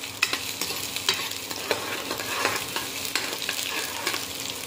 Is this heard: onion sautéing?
yes